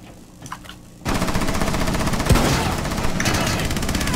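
Sustained automatic gunfire in Rainbow Six Siege on the Kafe Dostoyevsky map, a rapid burst bursting in after a quiet first second and rattling loud and continuous to the end, with one heavy thump near the middle.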